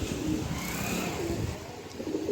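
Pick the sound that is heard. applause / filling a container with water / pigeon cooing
pigeon cooing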